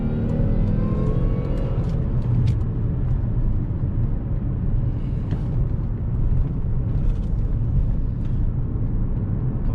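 A Jaguar S-Type R sedan making a kickdown acceleration, a deep, heavy engine roar building under load with road and wind rumble, heard from inside the car.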